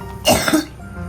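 One short, harsh cough bursts out close by, a single throaty expulsion with a brief rasping tail, set against quiet room sound.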